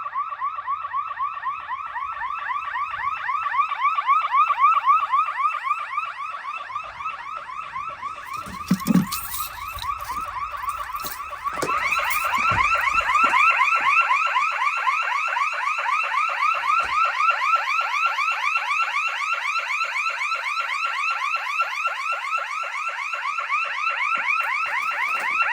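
A security system alarm siren under test sounds loud and close, with a rapid warbling, pulsing electronic wail that runs continuously and jumps in intensity partway through. Brief knocks and handling noises are heard in the middle.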